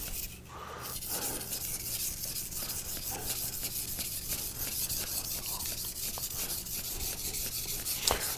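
An R2 powdered steel knife is being sharpened on a Japanese whetstone, given a bevel on both sides, producing a steady close rubbing and scraping that continues with even strokes throughout.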